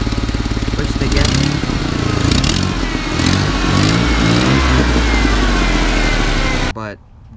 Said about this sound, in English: Guys, so this is the exhaust leak that I'm talking about. Now you can hear it.